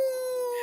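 A person imitates a wolf howl with one sustained, steady tonal note, close and loud, with no other voices.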